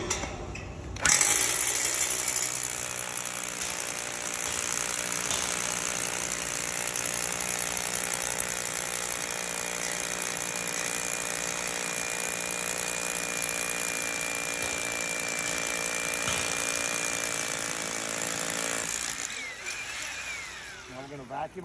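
Hammer drill boring anchor holes into a concrete floor for pallet racking, a steady loud grinding drone running unbroken for about eighteen seconds before stopping.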